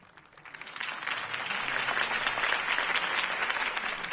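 A crowd cheers and applauds Harvey Dent's campaign speech in the Batman Telltale game, clapping swelling quickly from quiet into a sustained, dense roar of hands that holds steady.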